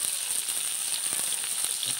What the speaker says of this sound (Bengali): ভাজা মাছের যে তেলটা, তেলের মধ্যে দিয়েই আমরা আলুটা ভেজে নেব।